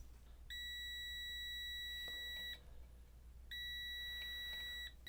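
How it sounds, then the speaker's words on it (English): A TESMEN TM-510 multimeter gives two sustained, steady continuity-check tones, each about two seconds long with a short gap between, faint over a low background hum; no voices. "it's automatically doing a continuity check for us"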